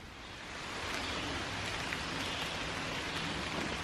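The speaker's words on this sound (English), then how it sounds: "Just as the rains start to pick up." Steady rain beginning to fall on the Appalachian Trail, a broad even patter of drops that swells in the first second and then holds at a constant moderate level, with no voices.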